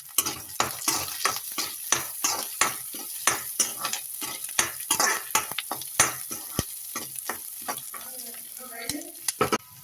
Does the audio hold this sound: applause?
no